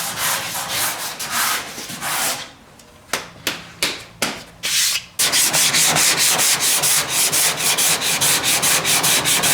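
Body filler on a 1973 Oldsmobile Cutlass 442 trunk lid is block sanded with coarse grit paper, making loud, rhythmic back-and-forth scraping strokes close by, briefly slowing to a few separate strokes mid-way.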